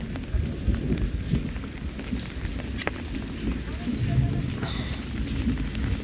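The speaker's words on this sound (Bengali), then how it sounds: "এই যে বৃষ্টি, এত বৃষ্টি, এবছরে সবচেয়ে বেশি বৃষ্টি, এটা কম নয়।" Heavy rain during a fierce storm in Medinipur, with thunder: a dense, steady roar of downpour filling the whole stretch at close range, no clear speech.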